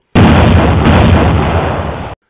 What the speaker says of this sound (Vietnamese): tiếng đại liên réo liên hồi, những chuỗi bom đen xì lại tiếp tục rớt xuống